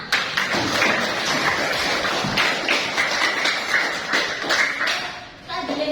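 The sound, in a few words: clapping hands in a class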